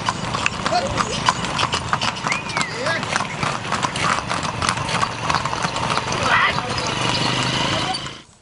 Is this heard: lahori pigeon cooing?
no